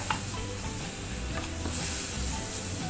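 Eggplant for a vegetable lodeh is stirred in a pan after a splash of hot water goes in, giving a steady close sizzle and hiss with faint scraping of the spoon.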